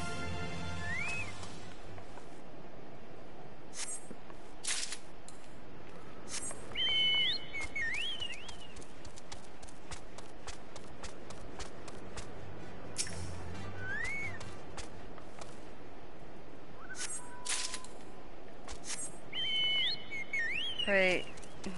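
Bird calls in the Final Fantasy 14 video game: scattered whistled chirps and short trilling phrases recur every few seconds over a steady ambient game bed, moderately clear.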